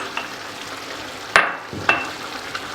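A spoon stirring minced garlic into softened tomatoes in a cooking pot, giving a few distinct scraping knocks spaced apart over a soft sizzle, close by with no talk.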